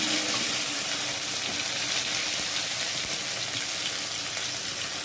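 Taro stolons drop into hot oil in a wok, giving a steady, dense sizzle of frying that stays loud and even throughout, with no voices.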